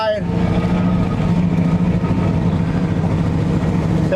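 A 1970 GMC truck with a newly fitted exhaust drives along a road, its engine giving a steady, loud, throaty rumble that holds evenly across the whole stretch.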